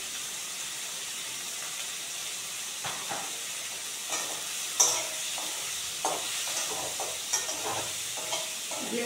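Ground spices with turmeric and cumin powder fry in a hot pan, a steady sizzling hiss broken by repeated scraping stir strokes, close and moderately loud with no voices.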